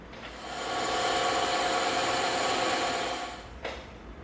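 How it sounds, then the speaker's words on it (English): A bandsaw cuts through EVA foam in one steady, continuous run, a loud, close, even hiss that holds for several seconds, then cuts off abruptly with a brief knock. No one speaks. "Now we're going to go over to the bandsaw and we're going to cut these out"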